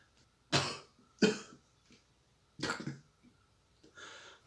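A person coughs after eating hot pepper during a spicy challenge: four harsh, separate bursts spaced a second or so apart, close and loud, with no talking in between.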